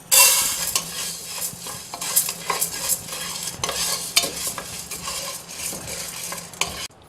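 Chana dal dry-roasts in a pan for homemade sambar powder, stirred briskly with a utensil scraping and rattling the lentils in an uneven rhythm, close and fairly loud with a light sizzle and no speech.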